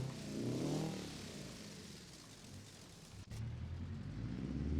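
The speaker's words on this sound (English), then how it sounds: "Fire up that air-cooled engine." Air-cooled VW Gol engine running in BeamNG.drive: a low, steady rumbling idle with a brief rising rev near the start, moderately faint and continuous, with a short dropout before the drone resumes.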